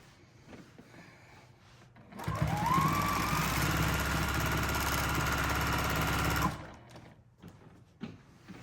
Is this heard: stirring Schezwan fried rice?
no